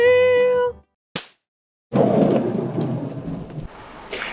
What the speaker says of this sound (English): It just started to rain.